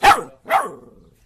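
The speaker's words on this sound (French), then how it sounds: "Elle couine, parce que là, elle aboie, c'est bien." A dog gives two sharp, loud barks close by, about half a second apart, each with a short ringing tail, and no other sound around them.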